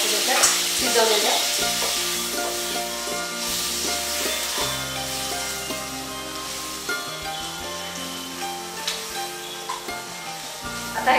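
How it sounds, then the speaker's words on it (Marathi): Mutton tawa fry with butter sizzling steadily on a pan while it is stirred, a constant loud frying hiss with occasional scrapes over a tonal hum in the background. "आता हे सगळं नीट मिक्स करायचं, व्यवस्थित एकजीव करायचं"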